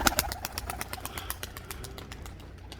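Domestic pigeons in a coop, with rhythmic wing flaps and soft cooing at close range, no talk.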